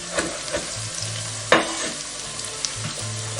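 Roughly chopped onion sizzling in a pan for mussels provençal, a close, continuous frying hiss broken by several stirring clatters and a sharp knock.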